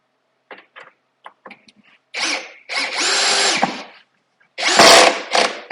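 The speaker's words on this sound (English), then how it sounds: "now I can take the drill" A power drill driving screws into an unfinished birch wall cabinet whirs in several short bursts, a sustained run in the middle, with light clicks and handling noises between.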